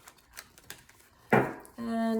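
Tarot cards shuffled by hand, a short dense riffle burst followed by a steadier rasping run, close and fairly loud after a few quiet taps and rustles.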